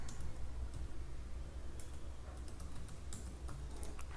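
Quiet, fast typing on a computer keyboard, a string of light irregular key clicks over a low steady hum.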